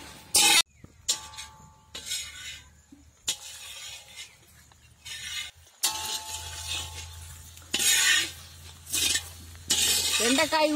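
Okra pieces dry-roast in a pan with no oil, stirred in bursts of scraping and clinking against the metal over a low background hiss, with brief pauses between rounds of stirring.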